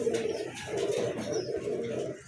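A pair of large pigeons coos close by in low, continuous, throaty rolls, soft and steady over the short stretch with no voices.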